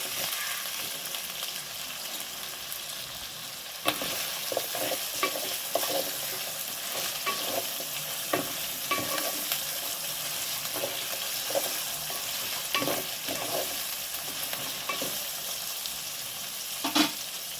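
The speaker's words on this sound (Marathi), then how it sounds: "आता यामध्ये आपण फ्लावर आणि बटाटे घालून घेऊया" Cauliflower florets and potato pieces stirred and frying in a pan for vegetable biryani, with a steady sizzle and repeated scraping and stirring clatters, close and alone without talk.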